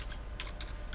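Quick, light keystrokes patter on a computer keyboard, a dense, fast run of soft clicks close by with no voices.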